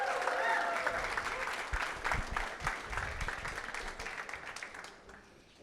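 An audience at an entrepreneurs' demo day pitch event breaks into sustained applause, a dense continuous clatter of hands under some voices that slowly tapers off toward the end.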